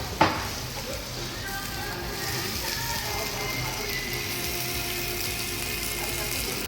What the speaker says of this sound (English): My sizzling pepper steak came.